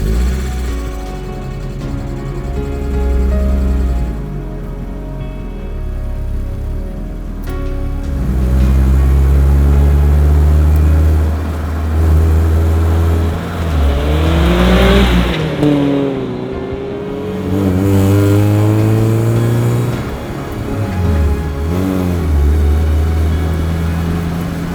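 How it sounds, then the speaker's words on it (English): A Mazda MX-5 project car drives on the road, its engine droning loudly from inside the cabin, rising and falling through repeated revs and gear changes over a steady low rumble. "I'm driving the MX-5 on the road"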